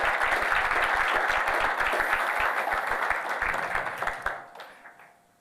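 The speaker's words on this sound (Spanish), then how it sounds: "Dele un aplauso fuerte al Señor Jesucristo." A church congregation claps loudly in full, rapid applause that holds steady and then fades out over its last second.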